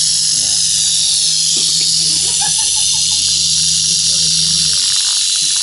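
Rattlesnake, roughly four or five years old, buzzing with a steady dry rattle and hiss that holds loud and continuous for most of the stretch before easing off, with faint voices underneath.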